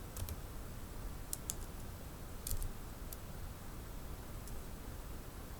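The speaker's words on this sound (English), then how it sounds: "Let me try to type using my normal keyboard" Typing on a normal computer keyboard, quick scattered key clicks in short bursts over faint background hiss, fairly quiet and close.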